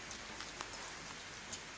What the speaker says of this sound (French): Alors il pleut vraiment ici.